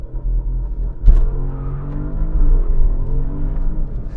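A 2019 Porsche Panamera Turbo S E-Hybrid pulls away hard, heard from inside the cabin as a low rumbling engine with a sudden surge, then a rising whir and drone under acceleration.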